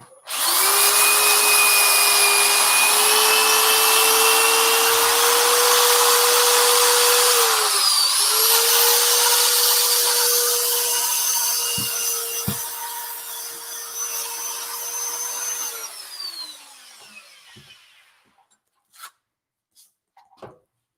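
A power sander runs on wood with 80 grit sandpaper, a loud steady whine with a sustained tone that dips briefly midway. It fades out toward the end, and a few faint knocks follow.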